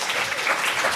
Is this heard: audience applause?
yes